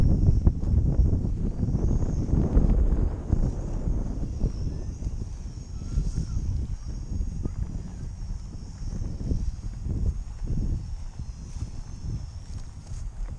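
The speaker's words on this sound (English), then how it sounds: "looks like the wind is taking it backwards" Wind blows outdoors by a pond as continuous low rumbling buffeting against the microphone, gusting stronger and weaker throughout, with a faint high whine of a small drone above it.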